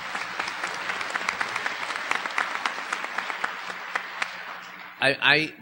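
An audience applauds steadily at a community gathering, an even spread of clapping that ends with a brief burst of speech.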